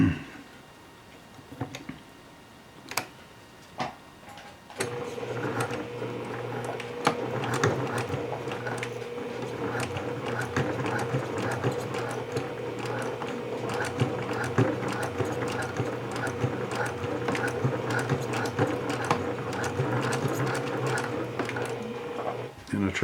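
A sewing machine hems a garment while following a Lutterloh pattern, running in a long, steady mechanical whir after a few opening clicks and taps, close and continuous with occasional speech over it.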